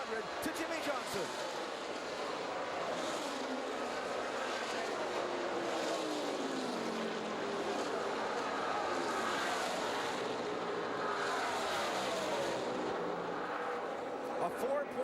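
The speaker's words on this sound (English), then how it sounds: "You see the cars as they come across the finish line at the top of your screen" NASCAR stock cars cross the finish line at the 2012 Brickyard 400 at Indianapolis, a dense, roaring wash of engines and crowd noise held steady throughout, with commentators talking over it.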